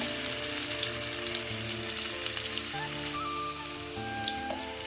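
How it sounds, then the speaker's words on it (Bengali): Salted pumpkin-free vegetables sizzle in hot oil with turmeric for a Bengali pui chhechra dish, a steady close crackling fry with no pauses and no talking. "ভালো করে একটু ভেজে নেব।"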